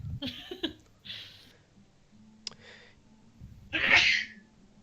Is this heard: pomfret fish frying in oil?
no